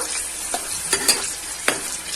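Dry red chillies, green chillies and tempering seeds frying in hot oil for tamarind pulihora, a bright crackling sizzle with several sharp spitting pops, close and fairly loud.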